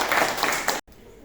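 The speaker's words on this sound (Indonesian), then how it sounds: "Kita berikan tepuk tangan." Students in a classroom applaud a presenting group, a short dense patter of clapping that cuts off abruptly into quiet room tone.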